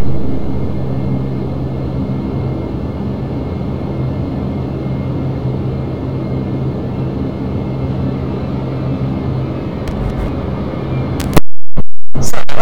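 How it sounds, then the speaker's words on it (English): Cabin noise inside a Dash 8 Q400 turboprop in flight, a loud steady droning roar with a constant low hum that cuts off abruptly near the end. "I found out what the Q stands for the Q400. It stands for quiet, but this aircraft is everything but quiet"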